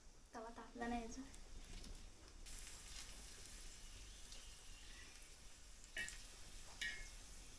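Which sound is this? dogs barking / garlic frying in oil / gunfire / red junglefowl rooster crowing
garlic frying in oil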